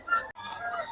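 Chickens cluck and squawk close by at a poultry market, two quick bursts of fowl calls separated by a brief pause.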